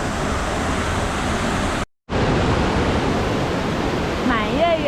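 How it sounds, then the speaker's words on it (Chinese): Steady, loud roar of a forest waterfall running at high volume after recent rain, a continuous broadband rush heard up close, broken by one brief cut to silence, with a faint voice near the end. "真的很壮观的这个瀑布，而且最近在下雨，所以水量非常的大"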